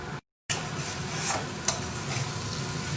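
Masala frying and being stirred in a pan until brown, a steady close sizzle with soft stirring scrapes and one brief dropout near the start.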